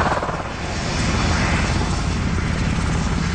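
A US Army Chinook twin-rotor helicopter flying overhead, producing a steady, loud, dense rotor and engine roar with a low rumbling throb throughout and no other sounds.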